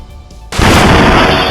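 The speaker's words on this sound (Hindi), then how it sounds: "जम्मू कश्मीर के श्रीनगर में रात करीब 11:22 पर बड़ा धमाका हुआ।" A powerful night-time blast inside the Nowgam police station in Srinagar, Jammu and Kashmir, erupting suddenly from near quiet into a loud, sustained broadband roar that stays loud through the rest of the clip.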